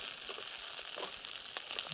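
Onions frying in a pan on a Trangia camping stove, a soft steady sizzle with faint crackles and pops, fairly quiet and heard alone.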